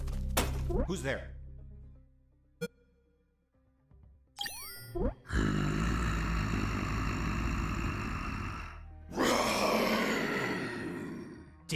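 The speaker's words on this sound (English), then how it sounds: "Damn T-Rexes." A T-Rex in the stealth game UnMetal lets out two long, loud, raspy roars, each several seconds long. Sharp game sound effects and background music come just before them.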